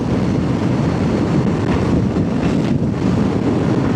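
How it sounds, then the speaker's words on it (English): Steady, loud roaring wind buffets the microphone without pause, a dense low rumble of rushing air with no voices, heard from the back seat of a Tiger 800 motorcycle riding on dirt roads. "Woo, that's a strong wind pushing me."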